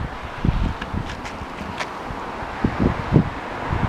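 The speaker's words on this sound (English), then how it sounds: "Look how windy the Delaware River is." Gusty wind by the Delaware River buffets the microphone in uneven low rumbles and bursts, with faint rustling in the background and no voices.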